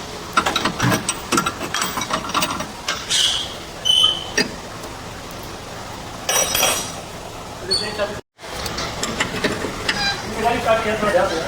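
A wrench works the nuts loose on a Mercedes-Benz during front wheel alignment, giving repeated ratcheting clicks and metallic clinks near the microphone, mixed with workshop clatter.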